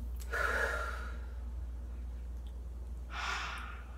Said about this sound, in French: Une bonne respiration.